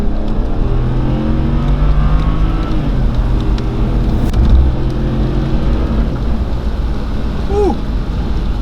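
A BMW E60 535xi with Stage 1 tuning pulls at full throttle in second gear from low revs, its engine note rising steadily and loudly inside the cabin, with dense rumble throughout and a short squeak near the end.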